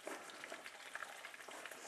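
Dorado fish sizzles in a frying pan with a faint, steady crackle and hiss of hot oil, quiet and continuous throughout.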